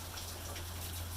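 Steady rain falling outdoors on a farm, a dense continuous hiss of drops close by with a low steady hum underneath and no talking.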